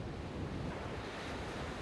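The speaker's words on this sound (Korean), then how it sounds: "끊임없이 몰아치는 파도" Sea waves crash and roll continuously onto the shore, a loud, dense wash of surf with wind buffeting the microphone throughout.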